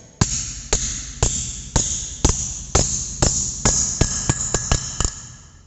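Hammer blows on a bent metal workpiece being straightened in a fitter's workshop, about a dozen sharp, ringing strikes, loud and close, coming in an uneven rhythm that quickens toward the end.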